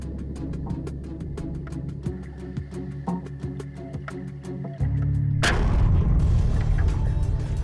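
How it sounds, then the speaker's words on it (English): A handgun fires a single shot at about 4.8 seconds, a sharp loud blast that leaves a dense, roaring wash of noise behind it. Before the shot, a steady rhythmic mechanical ticking and hum runs underneath. "After firing that first shot, the shockwave was far more intense than I anticipated"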